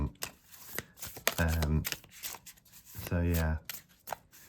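A new Tarocle of Oz tarot deck is shuffled in quick riffling bursts of soft card flutter, close by, broken up by a person speaking twice between the shuffles.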